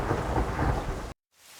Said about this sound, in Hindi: एक दिन गांव में बहुत तेज बारिश हुई।